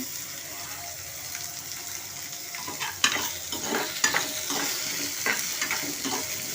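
Ivy gourd pieces with onion fry in a hot pan with salt, giving a steady sizzle broken by repeated scraping stirs and a few sharper clanks, close and moderately loud.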